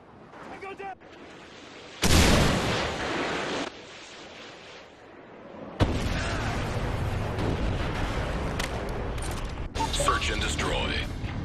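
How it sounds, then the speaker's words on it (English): A Predator missile strike in a Call of Duty style shooter, with sudden heavy booming blasts and a long rumbling roar of explosions and debris, interrupted by bursts of game noise and voices. "Friendly Predator missile inbound"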